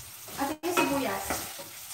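Onions sizzling and being stirred in a pot for pancit canton, close crackling fry with a short scrape and a brief cut partway through.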